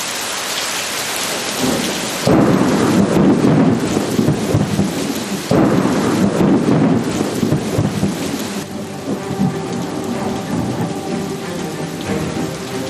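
A fierce storm with heavy rain and hail, a loud, steady downpour drumming on surfaces close by, with deep rolls of thunder swelling and fading and no voices.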